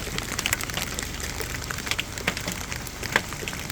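Hail falls in a rural homestead yard, a steady dense patter of small icy impacts with a few sharper nearby clicks standing out above the continuous hiss.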